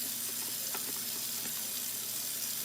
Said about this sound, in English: I'm just gonna clean out my sink real quick